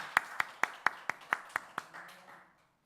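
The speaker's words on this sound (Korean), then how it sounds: "박수." A church congregation at a Wednesday worship service claps in a slow, even rhythm of about eight sharp, close claps, then fades with faint murmuring.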